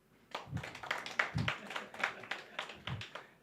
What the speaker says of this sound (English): You must clap for me for that.